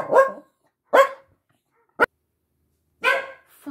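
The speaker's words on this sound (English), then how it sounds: "The fucking dog out there." A dog barks outside a house, three loud separate woofs spaced about a second apart plus one sharp yip, close and clear against silence.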